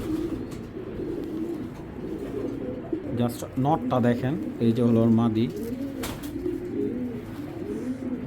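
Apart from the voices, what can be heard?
pigeons cooing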